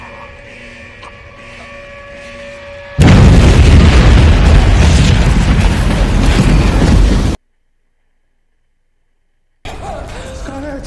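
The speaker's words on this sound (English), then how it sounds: "Were they about to fucking blow up the cave?" A cave explosion from the film As Above So Below erupts after a quieter humming passage, a sudden loud, sustained roaring blast that cuts to silence and then resumes more quietly.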